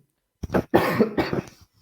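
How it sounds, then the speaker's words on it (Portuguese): Several harsh coughs in quick succession, close and fairly loud, with brief pauses between bursts and no talking. "desculpa pela tosse"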